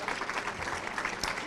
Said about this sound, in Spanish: Por eso, Ana, un aplauso